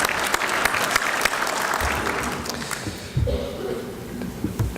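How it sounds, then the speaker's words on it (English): An indoor audience at an aerospace defense industry event applauds in a steady, dense burst of clapping that fades slightly toward the end, with a few voices mixed in. "Oh, the clap's good."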